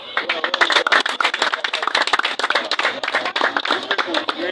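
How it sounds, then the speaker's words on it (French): Audience at a general assembly applauding the team, with irregular individual claps rising and thinning into a scattered, close-sounding round of applause. "Est-ce qu'on peut maintenant applaudir l'équipe?"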